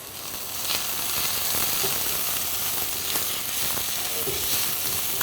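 Onions and garlic frying in a pan give a loud, steady, close sizzle that carries on throughout, broken by a few faint stirring clicks.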